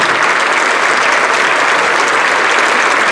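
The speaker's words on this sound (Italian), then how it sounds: "Vogliamo richiamare il maestro Sergio Vecerina perché merita un applauso molto più sostanzioso." Loud, dense applause from a crowd for a band conductor at an outdoor evening concert in a park kiosk, a steady wall of clapping that holds at full strength throughout.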